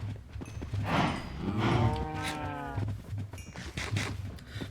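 Minecraft cows in a pen: one moos loudly and drawn-out in the middle, with more faint lowing and animal noises around it in a busy farm setting.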